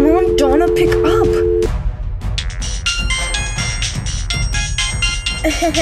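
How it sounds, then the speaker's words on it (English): A phone ringtone in a Halloween toy-figure skit plays as a bright, repeating electronic chime, loud and close, with a steady tone at the start followed by a busier melodic ring. "my phone's ringing."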